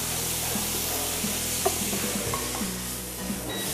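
Coconut chutney, including coconut milk, is stirred and fried in a pan, with a steady loud sizzle throughout and soft scraping stir strokes underneath.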